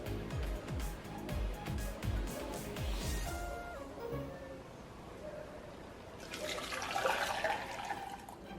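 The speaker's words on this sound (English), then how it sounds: "Go ahead and pour the syrup back into the bowl." Strained sweet syrup for an Indonesian kolak dessert is poured back into a bowl, with ringing, shifting liquid tones early on and then a louder burst of splashing pour near the end, heard close up.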